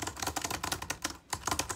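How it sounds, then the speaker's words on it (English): Rapid, continuous clattering of keys as homework is typed on a computer keyboard, close and steady with a brief pause midway, and no voices. "Typing this homework makes me hungry."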